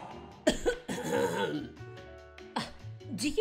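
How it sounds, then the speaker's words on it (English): An animated character clears their throat with a couple of harsh, gravelly coughs and throat-clearing rasps, up close and loud, with voiced grunts in between. "I was just clearing my throat."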